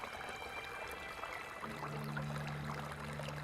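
Water flows in the game Caligo as a soft, continuous rushing stream. Partway through, a low steady hum joins in underneath, and there is no speech.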